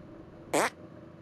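A cartoonish fart in South Park: The Stick of Truth, one short, loud, buzzy burst standing alone over a low ambient game background.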